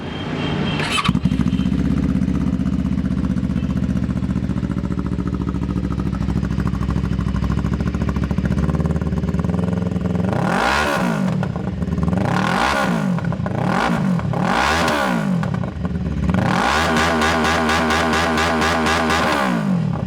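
A 400cc motorcycle engine idles steadily, then is revved hard several times in quick bursts, each rising and falling, ending in a longer rapid revving sequence.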